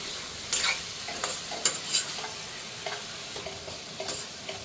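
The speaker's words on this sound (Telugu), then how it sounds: "బెల్లం పొడి వేసి దీన్ని బాగా మళ్ళీ కింద మీద కలిపేద్దాం." Mixture with powdered jaggery stirred and turned over in a pan, a steady run of scraping strokes over a soft sizzle, close by with no talking.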